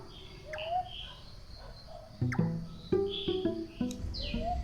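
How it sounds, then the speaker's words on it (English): A large-tailed nightjar gives a short series of repeated, knocking call notes, fairly close, amid scattered chirps from other birds. "I just heard the call of a nightjar."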